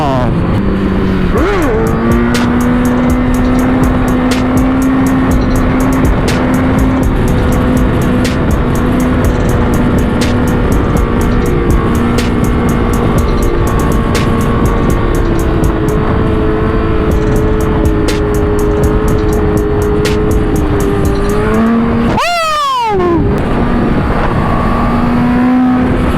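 A 2008 Honda CBR1000RR motorcycle being ridden, its engine droning steadily and loudly with rising revs and wind noise, then a sharp swooping shift near the end.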